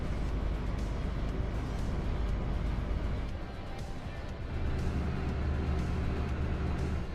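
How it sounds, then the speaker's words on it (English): An old truck's engine runs continuously on small-town roads, a steady low rumbling drone heard from inside the cab that dips briefly midway and then swells again. "This truck is a lot louder than I remember it"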